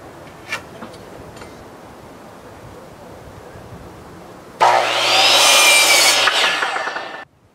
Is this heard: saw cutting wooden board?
yes